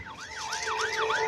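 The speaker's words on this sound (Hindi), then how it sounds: "यहाँ पर एम्बुलेंस आ गई है।" An ambulance siren wailing up and down in a fast, repeating sweep, loud and close, without any talking.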